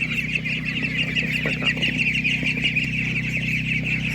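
Laying hens sold at an animal market cluck and squawk steadily, close and fairly loud, over a constant hum and low crowd murmur.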